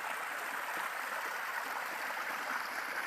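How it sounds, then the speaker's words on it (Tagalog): A very small spring-fed creek flowing steadily, a soft continuous rushing and trickling of water with no pauses, heard close and alone. "Yan, napakaliit na sapa."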